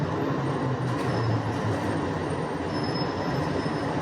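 The SFO AirTram airport people mover runs with a steady loud rumble and rolling wheel noise on its track, accompanied by a faint high squeal throughout.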